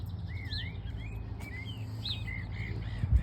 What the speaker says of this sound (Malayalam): കിളികളുടെ കളക്കളാരവും